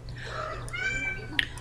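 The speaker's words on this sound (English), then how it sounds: "my cat meowing" A pet cat meows in short plaintive calls over a steady background hum, with a brief sharper chirp near the end; close and moderately loud.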